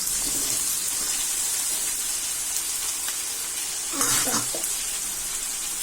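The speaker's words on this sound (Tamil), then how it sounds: "நல்லா ஆட் பண்ணிட்டு இப்போ வணக்கணும்" Radish chutney with green tomato and pepper sautéing in a pan: a steady, close sizzling hiss that runs throughout, with a brief burst of stirring scrapes near the end.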